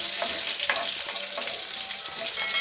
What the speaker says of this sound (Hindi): इस बंद फ्लेम के साथ हम अपने करी पत्ते को डाल देंगे